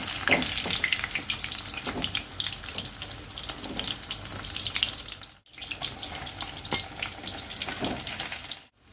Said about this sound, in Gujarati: આવી જ રીતે આપણે બધા પનીરને ફ્રાય કરી લઈશું.